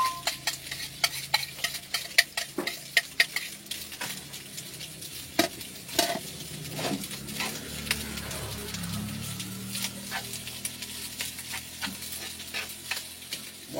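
Leftover two-day-old rice fries in a pan at a sand-mining site, with steady close sizzling and repeated sharp scrapes and clacks of a utensil stirring throughout, plus some low rumbling noise.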